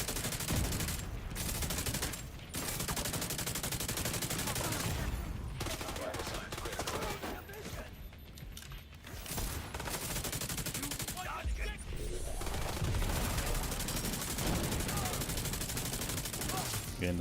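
Rapid, sustained automatic gunfire from The Division 2, dense bursts of shots rattling almost nonstop with brief gaps, while someone talks over the action.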